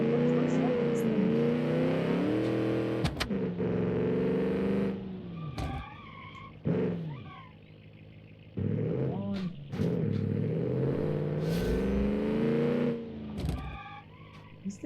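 A car with a massive engine in a video game revs and drones loudly in sustained, shifting bursts, with a person talking excitedly over it throughout.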